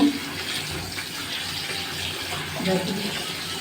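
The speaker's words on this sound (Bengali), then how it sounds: "আমি ওগুলো এইভাবে করে ভালোভাবে ধুয়ে নিব।" Potatoes are washed in a basket under running water, a steady rushing splash of flowing water with slight shifts in intensity, close and fairly loud, with no talk over it.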